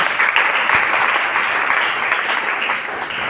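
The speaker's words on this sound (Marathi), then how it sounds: "मान्यवरांनी जो वेळातला वेळ काढला त्याच्यासाठी सुद्धा टाळ्या वाजून स्वागत करावं" An audience at a poetry programme breaks into dense, sustained applause, many hands clapping loudly and evenly throughout, easing slightly toward the end.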